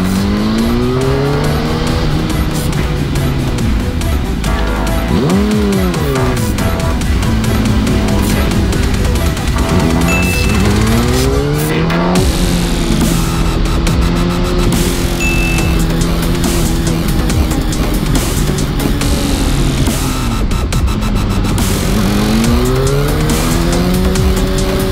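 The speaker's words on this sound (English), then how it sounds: "Look at all this traffic though, holy cow, man." Cars stream past on a busy road, a dense, continuous roar of engines and tires with repeated passing swells, some revving and tire squeal, loud and close throughout.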